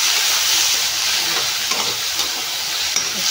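Chopped tomatoes and onions sizzle and fry in a pan while being stirred, a loud, continuous close-up hiss with occasional scraping of the spoon.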